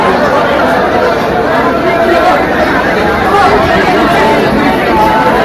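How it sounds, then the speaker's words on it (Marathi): A crowd of devotees chatters in the queue inside Trimbakeshwar temple. Many overlapping voices form a steady, loud, close babble throughout. "लय गर्दी आहे मित्रांनो"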